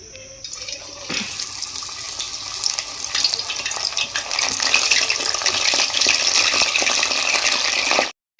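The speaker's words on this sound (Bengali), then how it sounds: "একে একে লোটে মাছগুলোকে আমি তেলের মধ্যে ছেড়ে দেবো।" Lote fish (Bombay duck) coated in cornflour frying in hot oil: a loud, steady sizzle and crackle that swells after the fish goes in, holds busy and close, then cuts off abruptly near the end.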